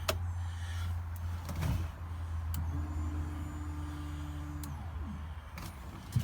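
An electric fuel pump in a car primes with a low, faint hum that runs for about two seconds and then cuts off, heard under a steady background drone with a few soft clicks.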